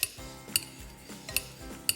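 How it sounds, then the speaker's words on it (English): A pastry cutter chops through hard-boiled eggs in a kitchen, giving four sharp metallic clinks spaced roughly half a second apart against a soft background, with no talking. "These actually come in really handy for chopping up eggs."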